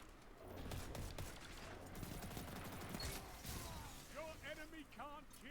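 Rapid weapon fire from a Destiny gun with the kill clip perk active, a steady stream of shots under game effects and chirping ability sounds, moderately loud with speech over it.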